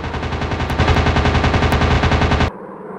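Rapid, loud, continuous machine gun fire from a 3D airplane combat video game, a dense stuttering burst lasting over two seconds before cutting off abruptly into quieter background noise.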